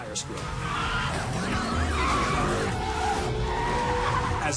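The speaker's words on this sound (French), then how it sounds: "Dès que le volant bouge, les pneus crissent." Car tires squeal continuously through a turn in a Fast & Furious scene, a loud, sustained skidding screech over engine roar with no break.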